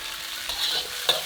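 Doubanjiang bean paste is stir-fried over very low heat in oil, a soft, close sizzle with light scrapes of a spatula through the paste.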